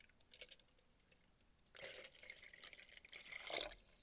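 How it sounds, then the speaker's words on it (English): Water poured into a stream table gives a faint trickle and drip that swells into a steady splashing flow partway through, soft and close with no talking. "Okay, we poured in some water."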